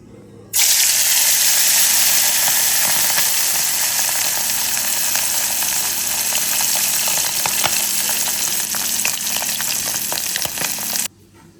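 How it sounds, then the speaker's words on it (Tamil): Steady, loud sizzling of fish frying in hot oil during village cooking, a dense crackling hiss that runs continuously without talk before cutting off. "இப்போ பொரித்து சாப்பிட போகிறோம் நாங்களே பொரிக்கிறோம்"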